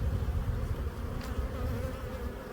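Honey bees at their hive in spring, a dense close buzzing drone that holds steady throughout, with no talking.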